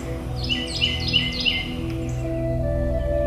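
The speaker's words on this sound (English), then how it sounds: "A chorus of birds heralds a new beginning." Several birds sing in spring in the lower Mississippi River Valley delta flatlands, bright repeated chirping phrases over a steady low ambient hum, moderately close.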